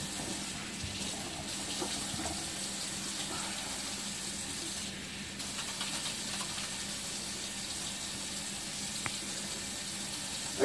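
Kitchen tap water runs steadily while hands are washed after handling raw chicken wings, a soft continuous hiss of flowing water heard alone at a moderate distance.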